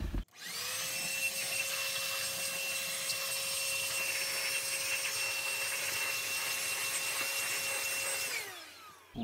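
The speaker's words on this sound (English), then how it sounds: "use this leaf blower to blow out the excess water" A leaf blower's high-pitched motor whines and roars with a rushing blast of air at constant strength for several seconds, blowing water off a car, then spins down and stops.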